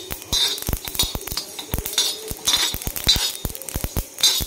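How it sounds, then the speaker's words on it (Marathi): Sesame and coriander seeds lightly roasted on a pan, with a spatula or spoon giving repeated sharp metallic clinks and scrapes in an uneven stirring rhythm, close and clear, with no talk. "आणि नंतर हे तीळ आणि धने पण टाकून घ्यायचे. ते पण हलकेसे असे शेकूनच घ्यायचं आहे सगळं."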